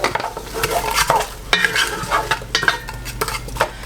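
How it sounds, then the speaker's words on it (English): Frozen vegetables sautéing in a pan with a pinch of salt, a steady close crackle broken by repeated clinks and scrapes of a utensil stirring against the pan, with no voices. "I'm going to go in with just a little pinch of salt to get these sauteing a little bit faster"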